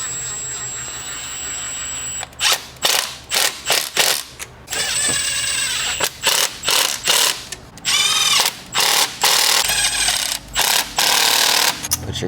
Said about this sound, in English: I love putting these type of bolts in. They sound so nice.